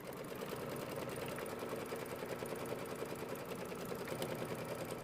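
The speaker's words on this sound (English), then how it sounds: "I'll stitch down the tack down stitch to hold it in place" A sewing machine runs a tack-down stitch on a quilt, its needle hammering in a fast, even mechanical rhythm, close and steady for the whole stretch without talk.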